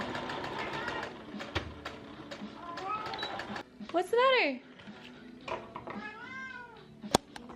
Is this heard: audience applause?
no